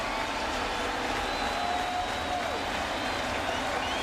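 A sellout crowd at a 2011 Yankees–Blue Jays baseball game, many fans on their feet, keeps up a continuous broad roar of cheering and clapping. It sounds distant and unbroken, with a faint voice layered over it.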